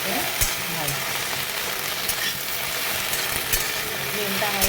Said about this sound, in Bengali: এবারে একটু ফ্লেমটাকে হাই করে এটাকে ভালো করে ভেজে নেবো